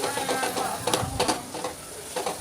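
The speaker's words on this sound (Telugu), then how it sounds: "ముందుగా మిక్సీ పట్టి పెట్టుకున్న వెల్లుల్లి కారాన్ని వేసుకొని ఒక రెండు నిమిషాల పాటు ఇలా బాగా కలుపుకుంటూ వేయించుకోవాలి" Garlic chili powder fries in a pan while being stirred, giving a soft, steady sizzle with light scraping strokes over about two seconds and no talking.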